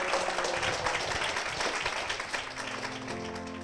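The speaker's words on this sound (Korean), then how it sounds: "이 가정을 위해서 축복의 박수" A church congregation applauds in blessing for a family, a dense wash of clapping that softens as sustained musical tones enter near the end.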